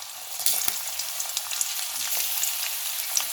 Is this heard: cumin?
yes